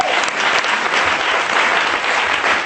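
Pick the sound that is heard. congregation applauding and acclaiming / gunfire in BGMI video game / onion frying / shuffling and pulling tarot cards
congregation applauding and acclaiming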